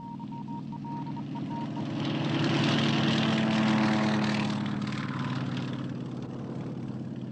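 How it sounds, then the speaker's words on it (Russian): A propeller airplane engine drones in a Soviet-era film about the Chelyuskin rescue, swelling as the aircraft passes close and then fading slightly, a steady buzzing roar with no talk. "самолет вылетел к вам"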